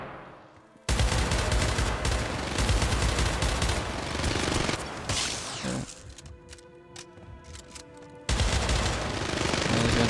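Enemies in Syndicate shoot guns almost constantly, a loud, dense stream of overlapping gunfire that breaks off briefly midway and then resumes at full strength.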